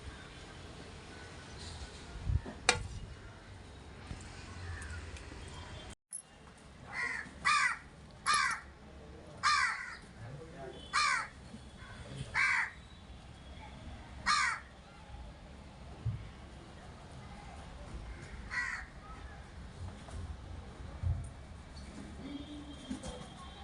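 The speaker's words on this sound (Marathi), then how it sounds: "आलेच बघा कावळे" Crows caw in a run of loud, harsh calls spaced a second or so apart, then a few fainter caws trail off in the distance.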